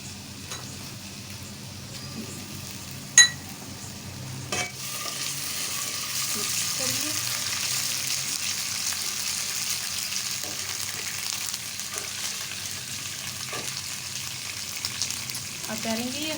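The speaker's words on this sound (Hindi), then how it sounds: "तेल गर्म हो चुका है, अब इसमें डालेंगे लहसुन अदरक का पेस्ट" Garlic ginger paste fries and is stirred in hot oil for a chicken tikka biryani, a continuous sizzle with a few sharp clacks from the spoon and no talking.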